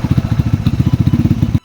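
A Honda Beat Carb motorcycle pushes through floodwater, its close engine putting out a fast, steady chugging pulse for a second and a half before cutting off abruptly.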